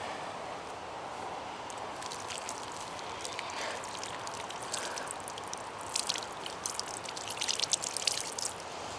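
Running water rinses lather from hands washed with handmade yucca soap, a steady close splashing stream that grows busier and louder toward the end.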